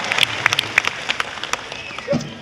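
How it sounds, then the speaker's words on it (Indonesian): A studio audience claps for a team on an Indonesian entertainment show, with scattered sharp claps coming in bursts over a steady crowd murmur, fairly close and moderately loud. "kita berikan aplaus yang meriah untuk para tim squad dari Musara Away"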